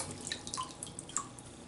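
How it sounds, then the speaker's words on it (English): A shaving brush is dipped into water in a sink, giving soft close drips and light splashes over a faint running-water hiss. "just take the brush, dip that in the sink."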